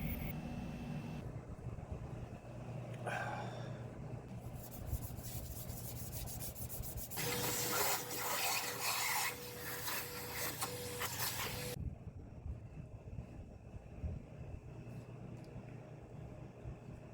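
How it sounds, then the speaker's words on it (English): A polishing wheel buffs the lacquer finish on a guitar body, producing a continuous close whirring hum with rough rubbing friction that swells louder and harsher midway through, then drops back to a quieter motor drone. "Pretty much gave it a good polish here. Not the best wheel to do it with,"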